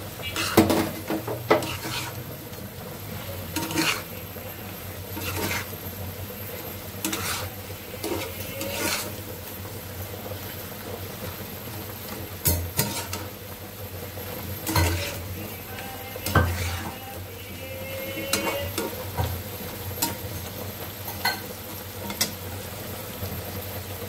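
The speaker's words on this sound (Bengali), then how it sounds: "এখন মশলাটা সিমের সঙ্গে কষিয়ে নেব।" Flat beans with spices and chili powder are stir-fried in a pan, with repeated spatula scrapes and metal clinks over a low sizzle, steady and close for a long stretch, no talking.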